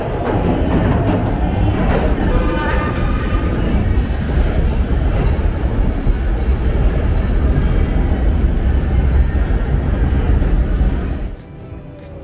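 A loud, steady rumble of a moving elevated train in Kensington, Philadelphia fills the clip, then drops off abruptly near the end as it stops.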